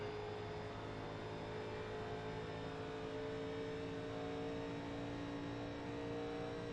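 A 1987 NASCAR stock car in the iRacing simulator drones at a steady high pitch as it powers through a turn on the Las Vegas oval, a continuous engine tone with no talk.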